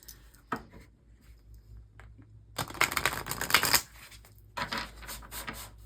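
Tarot and oracle cards being drawn and shuffled, soft riffling and sliding bursts close by, with a longer busy flurry in the middle and quiet gaps between handlings.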